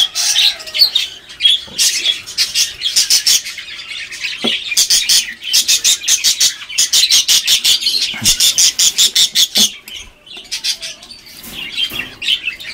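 Hagoromo parakeets squawking loudly at close range in rapid repeated bursts, with harsh chattering calls and occasional wing flutters.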